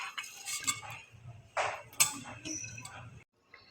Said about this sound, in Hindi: अब मैं इन्हें मिक्स कर रही हूँ।